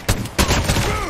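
Bursts of AK-47 gunfire in the Call of Duty video game, two sharp loud shots followed by a rapid continuous volley with ringing trails, close and dominant.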